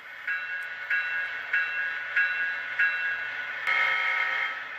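An MRC Prodigy WiFi DCC wireless remote sounds a model train horn in a series of short steady toots, five evenly spaced blasts and then a longer final one, clear and close with no talking.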